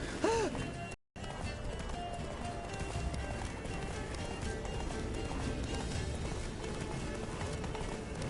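Hooves of the horse Roach galloping in The Witcher 3, a steady rapid clip-clop that runs for several seconds, briefly cut out near the start, with a voice heard early on.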